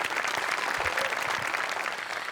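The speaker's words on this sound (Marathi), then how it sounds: "टाळ्या." Audience applause at a comedy stage performance in Marathi, a dense, steady burst of many hands clapping that fills the whole stretch at even loudness.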